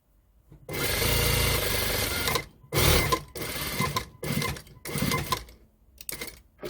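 A sewing machine stitching fabric cut from a pair of pants, running in several loud, close bursts of rapid rattling stitches separated by brief pauses, with one long run followed by shorter stop-start runs.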